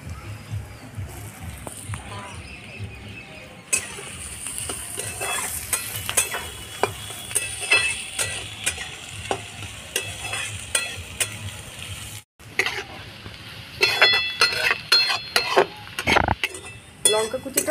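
Carrot, onion and chopped chilli fry in a pan with a loud crackling sizzle, while a utensil scrapes and clinks against the metal in repeated stirring strokes. A brief pause breaks the sound near the end.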